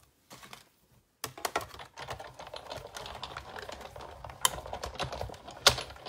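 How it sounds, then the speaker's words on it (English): A Big Shot die-cutting machine is cranked to cut paper leaf shapes. After a brief quiet start comes a dense run of close, rapid clicks and crunching ratchet sounds, with a few sharper snaps. "So I just need to make a couple more passes with the Big Shot."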